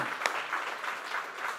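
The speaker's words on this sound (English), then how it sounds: "Round of applause for these folks." Brief round of applause from an audience at an evening cohort event, a steady wash of clapping at moderate volume with no voices over it.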